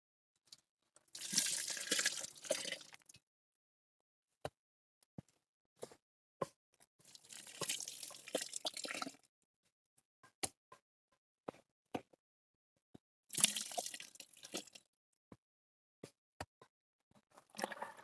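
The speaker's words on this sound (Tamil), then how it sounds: "இப்போ வந்து பார்த்திங்கன்னா இளநீ ஊற்றியாச்சு." Tender coconut water is poured into a panchagavya mixture in a few separate splashing bursts of liquid, with quiet gaps, faint clicks and small knocks in between.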